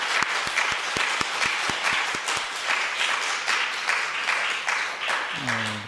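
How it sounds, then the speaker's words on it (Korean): Congregation at a church invitation service applauding for the pastor, sustained clapping from many people, with a few sharper individual claps standing out early and a voice starting up near the end. "우리 목사님께 박수 한번 해드립니다"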